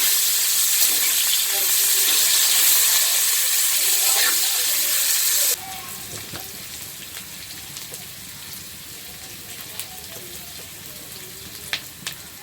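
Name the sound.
onions frying in a pan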